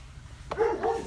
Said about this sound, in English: There's my dog just barking at somebody